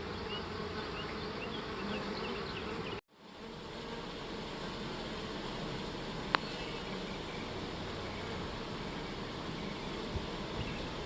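Dense, steady buzzing of many worker honey bees in a four-way mating nuc hive, close and continuous, with a brief dropout near the start and a faint click later.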